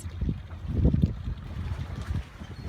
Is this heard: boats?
yes